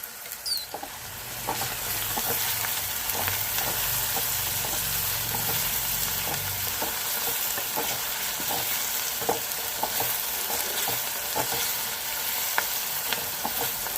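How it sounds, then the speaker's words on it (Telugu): Onions and green peas frying in a pan for a potato and pea curry, a steady close sizzle with occasional stirring clicks and spatters throughout. "ఉల్లిపాయలు వేయించుకోవాలి"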